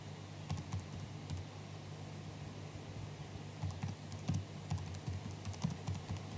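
Keys tapped on a computer keyboard while entering a search, a quiet run of irregular clicks with brief pauses between bursts, close by and alone over a low background hum.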